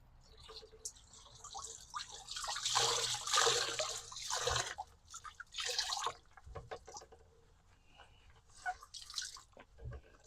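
A shirt is dunked and sloshed in a homemade liquid bug spray mixture, giving irregular splashes, drips and swishing close by, strongest in the first half and then thinning to scattered drips.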